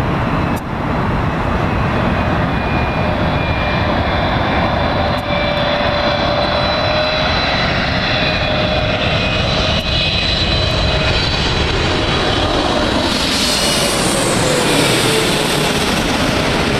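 A jet airliner roars through its takeoff run at LAX, with loud, sustained engine thunder and a rising whine that shifts in pitch as the aircraft passes close by.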